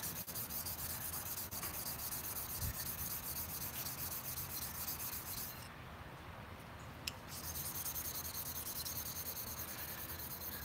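Knife blade being sharpened on Edge Pro abrasive stones, a continuous close abrasive rubbing and scraping that briefly drops off before resuming, with no talk.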